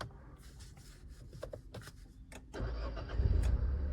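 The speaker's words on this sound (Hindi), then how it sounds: "गाड़ी ऑन करो," A Renault Kiger turbo car engine cranks with a short whirring starter, then catches at about two and a half seconds and settles into a loud, steady idle rumble close by.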